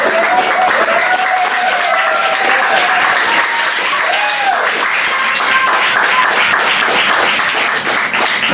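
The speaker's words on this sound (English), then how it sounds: "So if we could just get a round of applause for Elio." Sustained audience applause at a poetry club evening in Perth, a dense, steady wash of many hands clapping that fills the whole stretch at full loudness, with faint voices and a few whoops mixed beneath.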